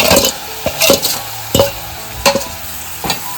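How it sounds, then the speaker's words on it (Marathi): A spoon stirs a kardi and potato mixture in a pan, scraping in several distinct strokes over a steady low sizzle, close and fairly loud with no voices. "व्यवस्थित सर्व गोष्टी मिक्स करून घेते"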